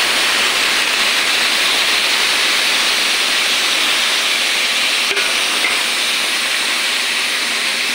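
Chopped vegetables added to hot oil with spices, prawns and greens nearby, giving a loud, steady, broad sizzle that hisses evenly throughout with no pauses.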